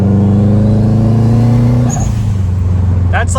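A car engine drones loudly and steadily under light boost, its low harmonic hum shifting pitch midway, with brief chirps near the end on a tuning-day drive beside a lake.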